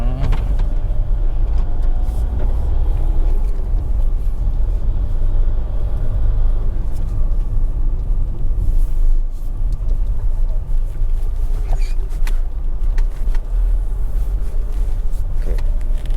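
A Tata Altroz hatchback with a three-cylinder engine drives along, a steady low engine and road rumble filling the cabin, with a few faint clicks and knocks over it.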